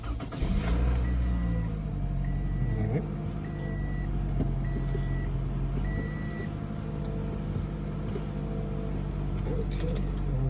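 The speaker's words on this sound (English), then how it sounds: "I'm gonna start the engine now." A 2016 Toyota Camry engine starting and idling steadily, a low continuous rumble with a repeating chime and brief speech over it.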